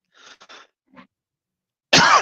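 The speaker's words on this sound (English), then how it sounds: "I guess I'm coughing now, so sorry about that." A person coughs once, harsh and close, in a brief burst after a few faint murmured sounds and a pause.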